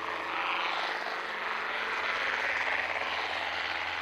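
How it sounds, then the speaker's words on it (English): A helicopter flies nearby, its rotor and engine making a loud, steady broadband roar that stays constant throughout with no speech. "It's beautiful, amazing helicopter."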